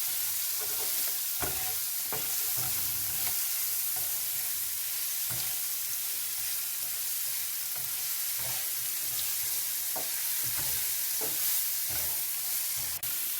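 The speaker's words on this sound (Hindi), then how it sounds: "थोड़ा सा इनको ज़रा सौते करेंगे" Vegetables sautéing in a pan while cooking chicken malai kebab, a steady loud sizzle with a series of scraping stirs at irregular intervals, close up and with no talking throughout.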